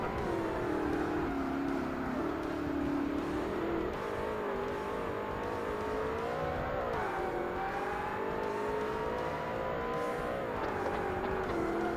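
An R-GTS class race car in the Forza Motorsport video game holds a steady high engine drone through an endurance race, rising and falling slightly with gear changes and cornering, loud and continuous.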